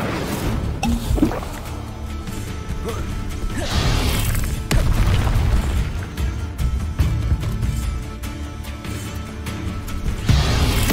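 The Incendio fire spell cast repeatedly in Hogwarts Legacy, heard as several loud crashing bursts with whooshing, crackling tails over a dense combat background.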